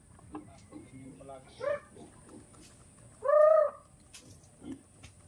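Rhode Island Red chickens in a backyard give a few scattered clucks and one louder squawk, fairly close, over a quiet background with faint distant noises.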